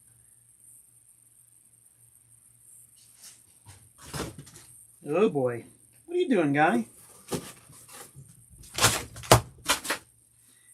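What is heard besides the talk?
cat batting an object around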